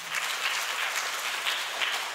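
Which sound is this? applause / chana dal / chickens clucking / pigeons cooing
applause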